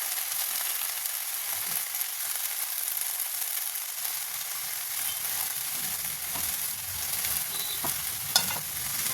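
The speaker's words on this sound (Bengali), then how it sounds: "তো দেখো আদা লঙ্কা ভাজা হয়ে গেছে, এর মধ্যে আমি দিয়ে দেবো এবার মেথি শাকগুলো।" Fenugreek greens frying in a pan with ginger and chili, a continuous even sizzle with light stirring scrapes, close and steady with no voices.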